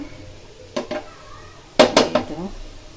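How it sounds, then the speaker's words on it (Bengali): Metal utensil clanks and scrapes against a pan while bitter jute leaves (pat shak) cook, a few sharp knocks standing out over a quiet background and faint sizzle. "তো এখানে সে পাট শাক রান্না করতেছি"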